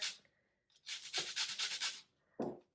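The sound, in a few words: grating orange zest with a microplane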